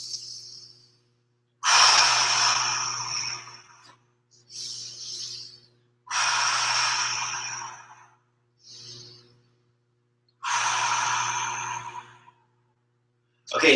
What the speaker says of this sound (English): let's take 3 breaths together.